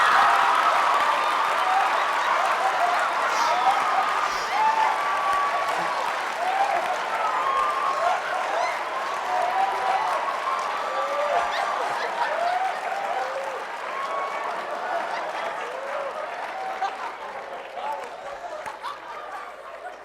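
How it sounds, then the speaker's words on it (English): An audience at a state high school speech competition final gives a long standing ovation, sustained loud clapping from a large crowd that fills the room and slowly tapers, with scattered cheers and voices mixed in. "We got a standing ovation,"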